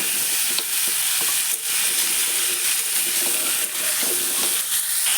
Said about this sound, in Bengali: ছোলা আর কুমড়োটা একসঙ্গে ভালো করে কিছুক্ষণ কষিয়ে নেব।